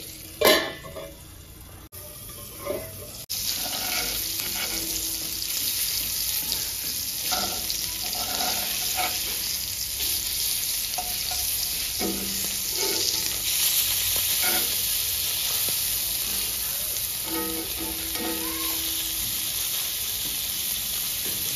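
Bangada mackerel frying in a pan over a low flame: steady, loud, close hissing sizzle of oil throughout, with occasional clinks and scrapes as the fish is turned.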